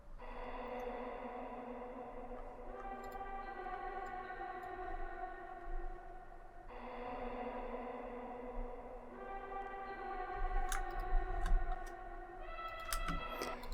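Pitched, effected vocal loop chopped from a one-shot in a psychedelic beat: quiet, shimmering stacked tones that shift pitch every few seconds over a soft hiss, with faint ticking clicks near the end.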